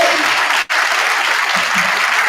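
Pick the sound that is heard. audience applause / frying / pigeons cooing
audience applause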